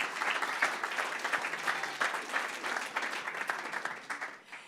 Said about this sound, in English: let's just have a round of applause for them